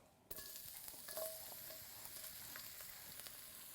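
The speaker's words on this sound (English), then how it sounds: "Gentle sizzle" Garlic sizzles gently in oil over low heat for a Chinese broccoli stir-fry, a soft steady crackle and hiss with faint spatter pops, close but quiet.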